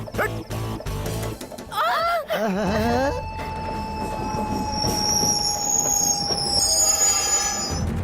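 A train rolls into a station in a Hindi-dubbed action movie, loud and near, with shrill wavering wheel squeals and long metallic screeching tones over a steady rumble of rail noise.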